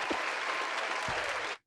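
Delayed applause sound effect on a podcast: a short burst of dense clapping, steady throughout, then cutting off abruptly, with no talk over it.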